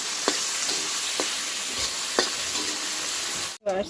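Salted raw onions frying in a pan for chicken and potato curry, a constant bright sizzle with a few light stirring knocks, then a brief dropout and a short clatter at the end.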